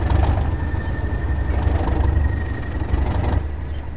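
A diesel locomotive engine, such as a BR Class 37, 08, 101, 31 or Class 20, revs up in the Train Sim World 2 game, a loud, deep, steady rumble with a faint whine, running alone without talk.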